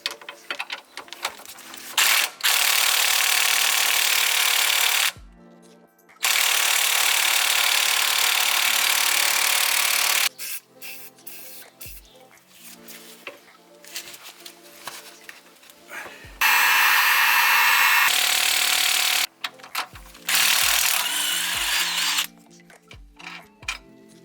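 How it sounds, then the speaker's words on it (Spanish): Panhard bar mounting bolts being loosened from the axle and chassis anchors of a 4x4 with a power tool: several long, loud, harsh bursts separated by short pauses, with no talking. "soltamos los tornillos de los anclajes del eje y del chasis."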